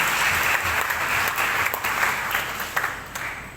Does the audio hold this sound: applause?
yes